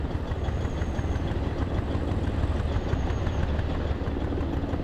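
A military vehicle engine in a war video game idles with a steady, dense low rumble and chugging throb, train-like and continuous, with no voices.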